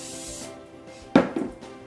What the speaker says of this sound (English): we're going to start heating up the pan, and we're going to spray it.